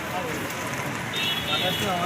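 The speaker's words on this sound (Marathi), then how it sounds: "पण एकदम हिमी जोरदार बॅटिंगने चालू आहे पावसाची." Heavy monsoon rain pours down on a street near a bridge in Vashi, Mumbai, a steady dense hiss close by with faint background noise throughout.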